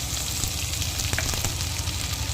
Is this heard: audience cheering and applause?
no